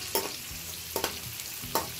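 Onions and green chilies fry in oil in a wok, a steady sizzle with three sharp scraping stirs spaced through it, close and fairly quiet.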